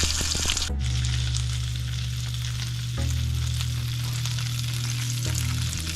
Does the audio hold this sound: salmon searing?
yes